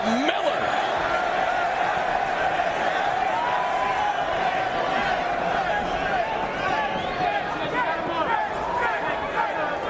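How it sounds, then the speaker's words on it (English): An arena crowd at an MMA fight roars and chants continuously, a dense wall of voices from many people, loud and unbroken, with commentary talk over it. "listen to this crowd"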